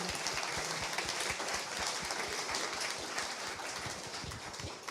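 Applause from a conference audience at a panel event, a distant, faint, even patter of many hands clapping that carries on steadily with no voices.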